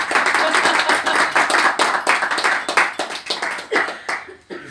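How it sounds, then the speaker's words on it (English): A gallery audience at the Open Window Gallery in Rathmines, Dublin, claps in a brisk burst of overlapping handclaps, close and lively, then thins out and fades near the end. "that's an applause"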